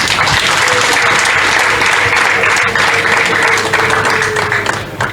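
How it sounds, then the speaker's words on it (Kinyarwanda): An audience claps for students at an education ministry results event, with sustained, loud applause from a large crowd filling the whole stretch before it tapers slightly at the end. "ubwo mwamfasha kubaha amashyi"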